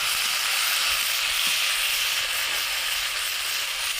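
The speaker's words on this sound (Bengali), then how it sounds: "পেঁয়াজটা ভাজা হয়ে গেছে, আমরা একটু হালকা পরিমাণ পানি দেব।" Fried onions sizzling hard in a pan as a little water is added, a loud, dense, steady hiss of frying and steam lasting the whole stretch without talk.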